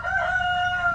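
A farm rooster's single crow, a sustained bright call lasting about a second, fairly clear above faint background noise.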